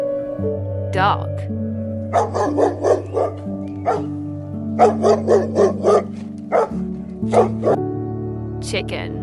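A dog barks in short, sharp bursts, several in quick clusters, close and loud above a steady musical backdrop with a voice present.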